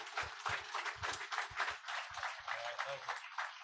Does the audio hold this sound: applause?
yes